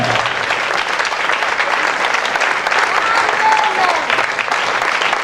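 A church congregation clapping in a sustained, dense round of applause that stays loud and steady throughout, with voices faintly mixed in.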